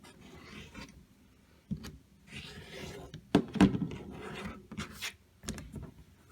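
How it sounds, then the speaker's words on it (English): Quilt block fabric for a sailboat pattern being trimmed along a ruler, heard as a series of short, dry scraping and rubbing strokes, close and fairly quiet, with small pauses between cuts. "line that up right along the seam, and then we're going to trim 2 sides"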